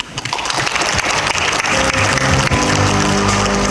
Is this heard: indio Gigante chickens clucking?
no